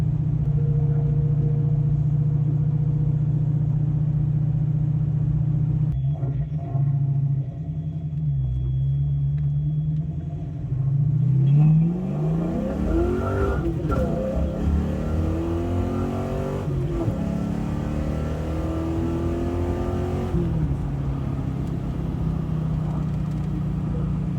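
A Fox Body Mustang with a FlowMaster 40 Series exhaust idles with a deep burble, then accelerates hard through several gears, its loud rumbling engine note rising and dropping at each shift over a sustained low drone.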